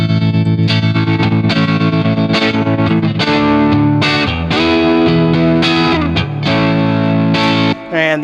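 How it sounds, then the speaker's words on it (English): Overdriven electric guitar through a Tube Screamer emulation pedal in the AmpLion 2 amp-sim plugin, playing a loud, continuous rock riff of sustained distorted chords and single notes with short breaks, no talk. "I'm going to start off with the Tube Screamer emulation here."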